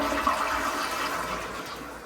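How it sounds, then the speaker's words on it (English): A toilet flushes in a hotel suite bathroom with strong water pressure, a continuous rushing whoosh of water at moderate level that tapers slightly toward the end, with no talking. "Go and flush it."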